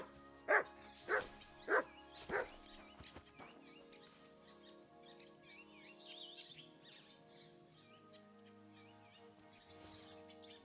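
Mutz the dog in Kingdom Come Deliverance II gives four quick, sharp barks close by, followed by soft chirping and whining sounds over a quiet background.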